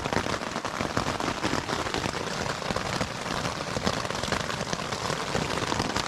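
Rain drumming on a tent pitched at a day camp by Long Lake on the South Lake to Bishop Pass trail, a dense constant patter of drops heard from inside, steady and close throughout with no voices.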